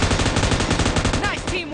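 Rapid automatic gunfire from PUBG Mobile rattles loudly and densely in a continuous burst, with brief voice fragments near the end.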